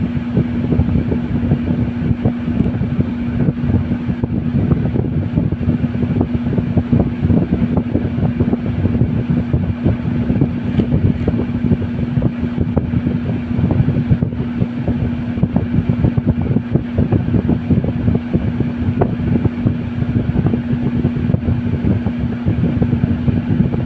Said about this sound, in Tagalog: instead na tumaas ang current ay nag-slow down po yung fan natin.